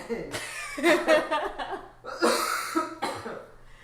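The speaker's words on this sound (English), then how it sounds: "You've had that cough since." A person coughs in several harsh bursts, close and loud, with a laugh-like chuckle mixed in and a brief gap before a second round of coughing.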